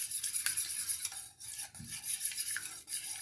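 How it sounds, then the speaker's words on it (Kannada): Raw eggs being beaten in a bowl, a soft, continuous scraping and stirring with light clinks of the utensil against the vessel, close and fairly quiet, with no talking. "ಈ ಮೊಟ್ಟೆನ ಒಂದು ಪಾತ್ರೆಗೆ ಒಡೆದ್ಬಿಟ್ಟು ಹಾಕಿಬಿಟ್ಟು ಇದನ್ನ ನೀಟಾಗಿ ನಾವು ಬೀಟ್ ಮಾಡ್ಕೋಬೇಕು"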